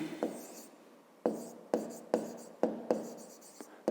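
Pen or marker strokes while writing out a fifth-grade geometry solution about angles, a series of short sharp taps and scratches in an irregular rhythm, close and fairly quiet, with no speech.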